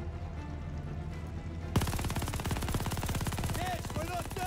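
Call of Duty Vanguard gunfire at the Battle of El Alamein: after a quieter stretch, dense rapid automatic fire bursts in loud and sustains, with a few brief tonal whistles over it and shouted voices around it.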